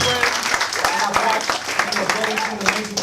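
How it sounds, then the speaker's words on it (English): An audience claps for a street poet at a community arts event: dense, steady applause filling the whole stretch, with scattered sharper hand claps and crowd noise underneath. "can we give an applause for Janice over here?"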